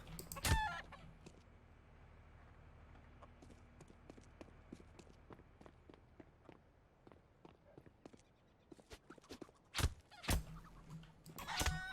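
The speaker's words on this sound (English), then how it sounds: "Why are there so many chickens here?" Chickens cluck in a video game in scattered short bursts over a quiet ambient background, with a couple of louder calls near the end.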